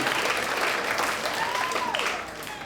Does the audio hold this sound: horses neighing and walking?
no